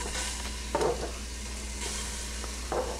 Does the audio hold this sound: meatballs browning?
yes